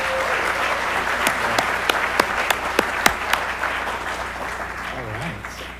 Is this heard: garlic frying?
no